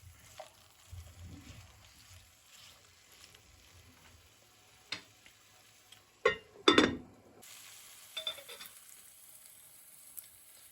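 Brussels sprouts with potatoes and carrots sizzle quietly in a pan, softly frying in their own juices, with a few sharp scrapes and clatters of a spoon stirring them in scattered bursts.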